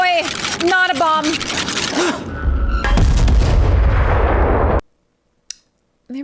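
A bomb blast in an animated fantasy series, heavy low booming rumble with sharp pops and crackles, loud and close, following excited voices, then cutting to near silence.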